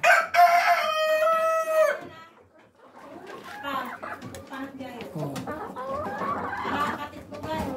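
Rhode Island Red breeder chickens in a cage: a rooster crows loudly and close at first, then hens cluck and chatter steadily in a busy flock.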